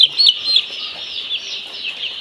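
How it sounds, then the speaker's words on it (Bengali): A flock of chickens with young chicks on a hot day gives off a steady, dense stream of high chirping and peeping, with a few sharper calls near the start. "এই দেখেন এই যে গরমে মুরগি কিভাবে রয়েছে"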